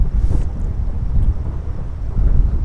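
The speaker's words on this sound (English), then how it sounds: "Wind's blowing like crazy again." Strong wind gusts outdoors, buffeting the microphone with a loud, continuous low rumble that swells and eases without any talk.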